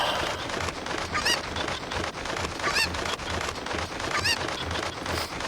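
Chickens in Ocarina of Time give repeated squawks and clucks about every one and a half seconds over a busy game background.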